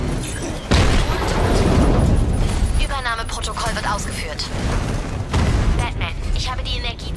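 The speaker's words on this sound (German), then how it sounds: "Batman, der Panzer ist bereit für die Explosion." In Batman Arkham Knight, a tank blows up with a heavy boom and a rumbling blast, then a second loud burst follows, while voices talk over the game sound.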